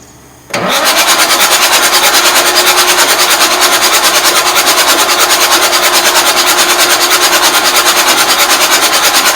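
A 1989 Marmon truck engine cranking over, starting abruptly and holding a loud, steady rhythmic churn of the starter turning the engine without firing.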